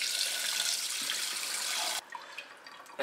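Cold tap water pours steadily and fairly loudly into a pan holding a drained boiled egg for about two seconds, then shuts off, leaving faint drips and quiet kitchen noise.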